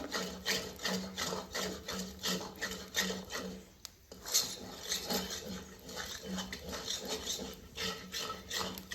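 Flour dough being stirred steadily in a pot over a village-style wood-fired stove, a continuous rasping, scraping rhythm of the spoon against the vessel, fairly close, with a brief pause midway.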